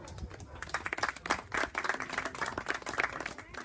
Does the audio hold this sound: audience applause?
yes